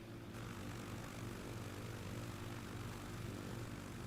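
A Cessna's propeller engine drones steadily at a constant pitch inside Microsoft Flight Simulator 2024, alone and without talk.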